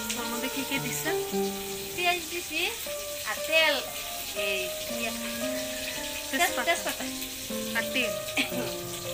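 Onions and bay leaves frying in oil in a rural kitchen, a continuous crackling sizzle running under background voices and tonal chatter.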